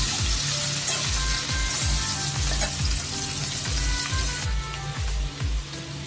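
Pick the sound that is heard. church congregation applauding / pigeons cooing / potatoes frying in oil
potatoes frying in oil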